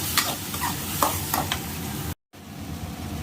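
Tomato paste stirred into a hot frying pan for chilli parotta: close, steady sizzling with scraping stirs, briefly cut to silence before the frying resumes.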